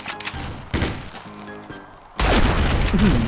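Gunfire in the online shooter Combat Arms Reloaded, rapid bursts of shots and impacts that surge into a loud, sustained volley near the end, amid game sounds and a voice speaking.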